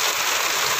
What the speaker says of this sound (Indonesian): Tapi hujan lebat.